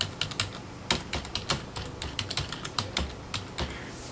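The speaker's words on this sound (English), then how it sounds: "In the first link I type in" Quick, uneven clicks of typing on a computer keyboard come in short bursts and pauses, close and clear with no talking.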